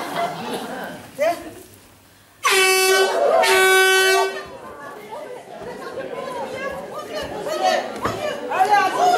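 A loud car horn blares in two long sustained blasts, close and sharp, cutting through chatter and talking before and after.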